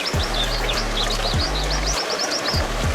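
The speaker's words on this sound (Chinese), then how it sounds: "周围有小树林，再给一点鸟鸣声" AI-generated birdsong for a small grove beside a pond: high, rapid chirps and trills repeating steadily over a constant low hum and watery background, with no voices.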